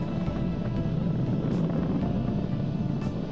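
Roaring SpaceX Falcon 9 rocket engines during a crewed launch to the ISS, heard as a steady, loud, dense rumble with no letup across the whole stretch, distant and broadband.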